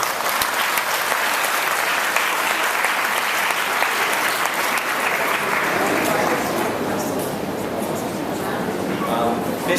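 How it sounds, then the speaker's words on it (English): Sustained audience applause from parents at a primary school orientation presentation, dense clapping from a sizeable crowd that holds steady for about ten seconds, then thins slightly near the end. "Please give them a welcoming round of applause."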